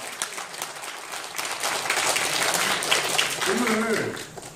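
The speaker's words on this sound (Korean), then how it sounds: "오재성 선생님께 다시 한번 뜨거운 박수를 부탁드립니다." Audience applause for a lecturer at a history lecture, a burst of clapping that builds and holds steadily before fading, with a voice speaking over the tail.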